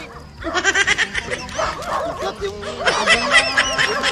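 A dog at a K-9 unit gives a quick run of short barks and yips early on, then whimpering sounds while people talk nearby.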